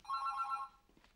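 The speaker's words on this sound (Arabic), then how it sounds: "لك هذا التليفون العادي مو الموبايل." A landline telephone rings indoors: one bright, steady electronic ring burst, fairly close and clear, then quiet.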